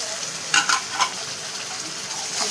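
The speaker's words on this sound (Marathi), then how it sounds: "आणि त्यानंतर आपण आलं लसणाची पेस्ट टाकून घेणार आहे," Ginger garlic paste fries in a pan for chicken masala, a steady bright sizzling hiss with a few quick stirring scrapes and spatters near the start.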